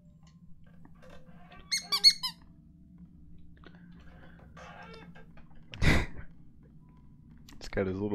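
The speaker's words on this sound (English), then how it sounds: "Got his little squeaky toy." A pet dog works over a squeaky toy indoors, giving a few short, sharp squeaks in a quick burst and then another louder squeal later, with low background hum and faint voices between.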